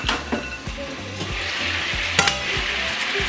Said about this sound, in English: so we're gonna take a look at our ribs